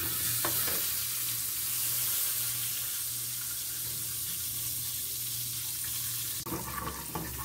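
Two heaped spoonfuls of margarine melt in a pan, giving a soft, steady sizzle with a faint hum underneath, then a brief clatter near the end.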